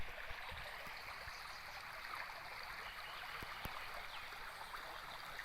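Steady, dense rush of moving water fills the whole stretch, a continuous broadband roar with no talking, like a flooded channel pouring past nearby.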